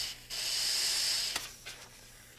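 Short burst of compressed air from an air nozzle blown into a small hole in the end of a rubber control grip, a steady close hiss lasting about a second, followed by two brief fainter puffs.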